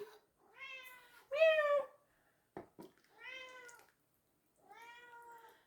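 A cat meows several times in a quiet room, a series of drawn-out, close cries separated by short pauses, with a brief faint knock in between.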